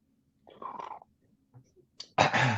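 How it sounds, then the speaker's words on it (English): A soft buildup of breath followed by a single sharp, loud sneeze at the end, otherwise quiet. "Sneeze."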